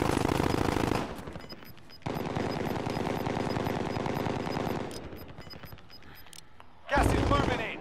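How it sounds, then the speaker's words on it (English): Rapid automatic gunfire rattles in a battle-royale video game, with bursts of machine-gun fire broken by short pauses, loud and close, while players talk over it. "He's firing back."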